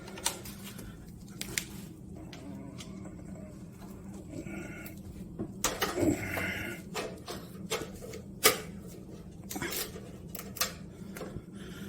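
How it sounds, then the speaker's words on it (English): Ratchet wrench loosening bolts on a HMMWV Humvee cover, heard as repeated sharp ratcheting clicks and metallic taps spread over steady low background noise, with bursts of several quick clicks near the middle. "I'm going to get my ratchets after those 2 guys"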